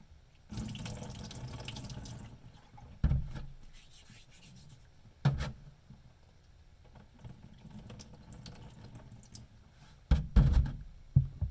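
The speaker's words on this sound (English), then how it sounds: "All right, I'm going to rinse this off again" Tap water runs over a whetstone while a Benchmade Mini Griptilian knife is being hand sharpened. A rushing stream starts and stops in bursts, broken by a few knocks and clunks against the sink.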